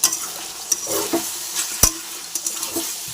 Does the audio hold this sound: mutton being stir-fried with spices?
yes